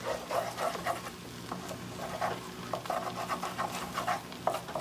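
Liquidy eggs being stirred in a hot pan for homemade roast beef hash, a quiet rhythmic scraping and clicking of the utensil repeating over a soft, steady sizzle and low background hum.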